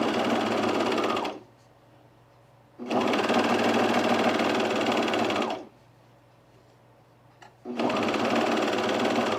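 A serger runs through fabric for a pin tuck sleeveless top in two long, loud, steady bursts plus a brief final start, separated by quiet gaps, with no voices.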